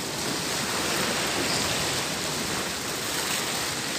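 Heavy rain pours as a dense, even hiss that fills the whole stretch at a constant, moderately loud level, with no pauses.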